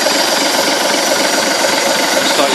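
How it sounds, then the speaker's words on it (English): The engine of a Ribble BD-2 recovery truck built by Walsh Brothers of Manchester runs steadily and loudly up close, a dense, even rumble and clatter with no pauses. "let you hear the engine running on the RIBBLE recovery truck BD-2 by Walsh Brothers of Manchester"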